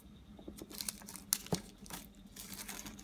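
Plastic packaging of a keyboard palm rest for a Razer Ornata Chroma being torn and crinkled open by hand, with a few sharp rips among steady rustling, close by and fairly quiet.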